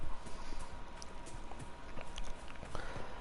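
Horse hooves clip-clop at a steady walking pace in the video game Dragon Age Inquisition, the mount's rhythmic footfalls continuous and fairly close over a busy in-game ambient background.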